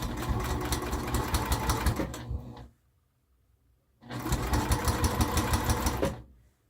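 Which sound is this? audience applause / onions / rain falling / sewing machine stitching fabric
sewing machine stitching fabric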